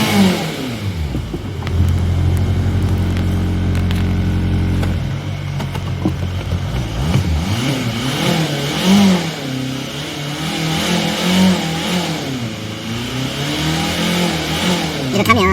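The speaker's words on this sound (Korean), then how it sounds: "또 후진 넣겠습니다. 리버스에서 자, 주행합니다." A car engine idles with a low steady hum, then revs and wavers while driving slowly in reverse gear during a transmission fluid flush and torque converter cleaning, with someone talking over it throughout.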